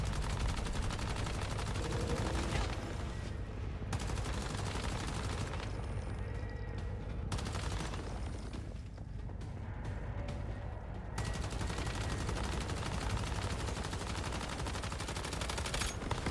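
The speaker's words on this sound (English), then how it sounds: "You can one-face him with the LMG." Sustained light machine gun fire in the video game Once Human, loud, rapid bursts running almost without pause, with brief gaps between volleys before the firing resumes.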